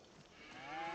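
Cattle moo in a Farming Simulator 25 game farm, cows waiting in a pen; one drawn-out moo rises and swells over about a second, fairly soft and with no voices.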